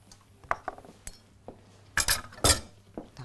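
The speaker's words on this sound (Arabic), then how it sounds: "تعالوا نقلبها." Pasta stirred into bolognese sauce topped with parmesan in a pan brings sharp metallic clinks and scrapes of a utensil against cookware, arriving in irregular bursts with a few louder clatters near the end.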